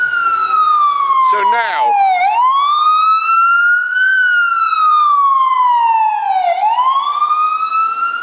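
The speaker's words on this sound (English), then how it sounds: "We've had a police car, a fire engine, now an ambulance." An ambulance siren wails loudly on a street corner in Queens, New York, its pitch sweeping slowly up and down in long cycles; someone briefly speaks over the start.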